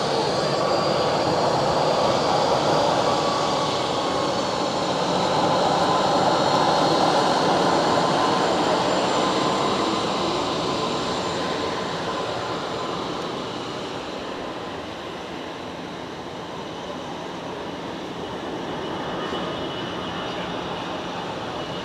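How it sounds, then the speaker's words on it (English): An EasyJet airliner arriving at Geneva Airport, a loud sustained broadband jet roar with a faint whining tone, swelling early, then easing slightly and lingering as it passes nearby. "next in, another EasyJet,"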